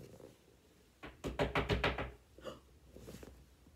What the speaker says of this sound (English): he tapped on the castle door